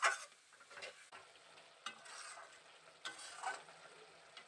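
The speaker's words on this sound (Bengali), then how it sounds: "ডালটাকে দিয়ে আবারও ভালো করে নাড়ি চাড়িয়ে কিছুক্ষণের মতন কষিয়ে নেব।" Boiled chana dal being stirred and fried with a fish head and spices in a pan: quiet sizzling broken by a few scraping spoon strokes, close but faint, with no voices.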